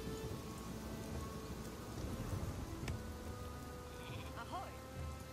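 Steady rain hisses through the Northgard real-time strategy game, with sheep bleating and a sharp crack near the middle, all at an even, moderate level.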